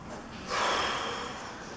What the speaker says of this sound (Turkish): Nefes ver.